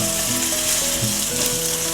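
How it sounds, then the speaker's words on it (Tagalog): Ingredients sauté in a hot pan with a continuous close sizzle and crackle, and faint scraping from stirring runs through it. "Mabilis lang naman itong gisa. Ayan, nagre-red na siya ng konti."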